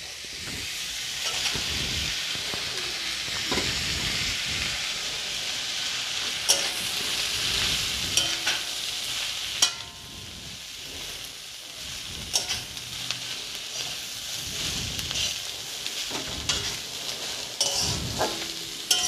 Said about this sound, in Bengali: শাক ভাজাতে একটু সর্ষে তেলটা বেশি পরিমাণে দিলে খেতেও ভালো লাগে।